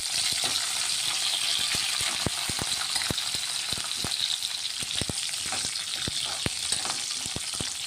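Cut green chillies frying in hot oil, a steady bright sizzle with sharp spatter pops and stirring taps scattered across it, near and even.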